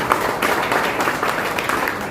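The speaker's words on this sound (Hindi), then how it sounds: "इस बार उनके लिए ताली बजा दीजिए।" Audience at a nursing and paramedical institute opening ceremony applauding in a steady, dense burst of clapping throughout, moderately loud, with no distinct voices over it.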